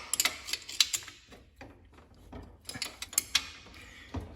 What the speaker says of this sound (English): I'm going to have to do that with a wrench to get in there and tighten that one up